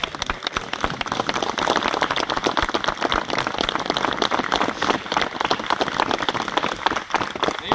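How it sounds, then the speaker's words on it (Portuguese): A church congregation gives a round of applause at a bonfire gathering, a loud, dense burst of many hands clapping continuously from start to finish without any speech. "vamos expressar com uma salva de palmas?"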